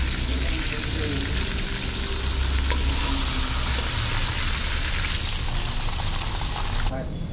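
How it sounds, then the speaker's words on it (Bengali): Chicken, a country hen being cooked for a roast, fries in a pan with a steady broadband sizzle that runs the whole way through and stays fairly loud. "চিকেনটা ভাজা হয়ে গেছে, নামিয়ে ফেলতেছি"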